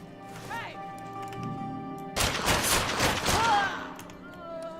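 Twin pistols fire in the online game Fallen Earth, a rapid burst of overlapping shots lasting about two seconds. Synthetic game music and tones play underneath.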